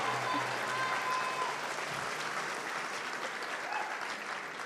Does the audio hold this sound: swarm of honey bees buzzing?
no